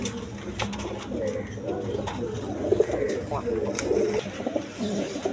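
A pair of racing pigeons coos softly and repeatedly at close range while someone talks over the calls throughout.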